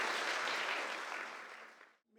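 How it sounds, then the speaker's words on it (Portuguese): Audience applause at a university roundtable on student use of AI fills the room in a dense, even wash, then thins and fades out over about two seconds. "Então, Ana Beatriz, uma salva de palmas para ela."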